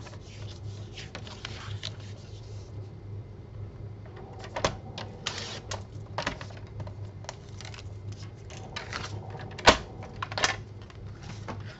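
Paper is cut for a beginner's scrapbook album, heard as close, scattered clicks, taps and rubbing scrapes over a low steady hum, with a few sharper knocks.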